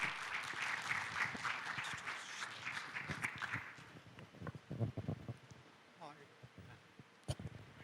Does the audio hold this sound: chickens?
no